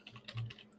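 Soft, quick keystrokes tap on a computer keyboard, a faint cluster of clicks close by in a quiet room.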